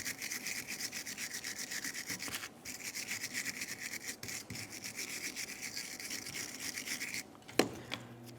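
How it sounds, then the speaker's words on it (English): Steady back-and-forth scrubbing of a wire brush on the caliper bracket mating surface of a 1994-1997 Honda Accord front hub, rapid rhythmic rasping close up, broken by brief pauses and a sharp knock near the end. "Use a wire brush or some sandpaper and clean up the mating surface."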